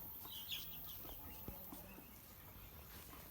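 A Plymouth Rock rooster and hen in a farmyard flock give soft, scattered clucks over faint background noise, with a few brief sharper calls and no one speaking.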